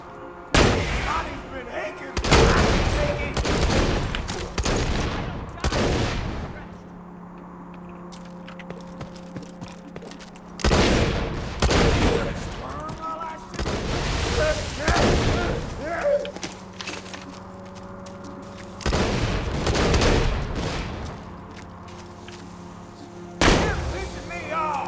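Rocket launcher blasts and gunfire from the Borderlands 2 video game, fired in loud, irregular bursts with short pauses between volleys over a steady low hum.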